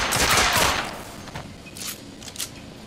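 Video game gunfire in The Order: 1886, a loud burst of rapid shots that fades into a few scattered, fainter reports over a second or two.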